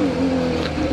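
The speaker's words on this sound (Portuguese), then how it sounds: "Trocando de marcha." Car engine droning low and steady while gears are shifted and the clutch is released, a brief close hum with no change in pitch.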